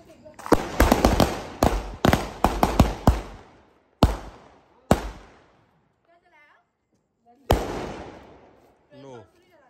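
Diwali seven-shot firecracker bursting in quick succession: a rapid volley of sharp near bangs, then several spaced louder blasts with trailing crackle, with voices chattering between and after the shots.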